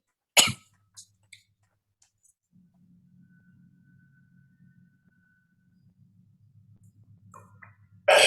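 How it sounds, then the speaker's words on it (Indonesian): A sharp, close cough, then two softer coughs, a quiet low hum, and another burst of coughing at the very end. "kok jadi batuk sih?"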